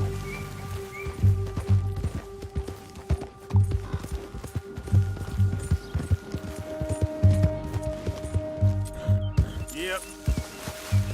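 Horse hooves clopping in Red Dead Redemption 2 as the horse is ridden, a rhythmic hoofbeat pattern under music and a low hum, with a brief spoken command from the rider.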